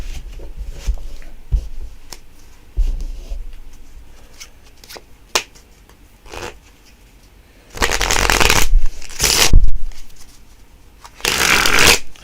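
Playing cards being shuffled during magic practice: a few soft taps and handling sounds, then loud riffling shuffles in bursts, close to the microphone.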